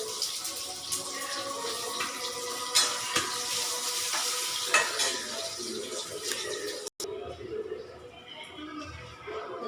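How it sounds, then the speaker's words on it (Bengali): Potato and cauliflower frying in a pan make a steady, loud sizzle with intermittent stirring clatter, briefly cut by a gap, with someone speaking over part of it. "এই আলুটা আর এই ইয়েটা ফুলকপিটা একটু ভেজে নেব।"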